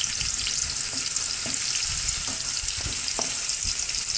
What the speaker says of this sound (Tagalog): Ipag-brown lang natin yung konti yung garlic natin.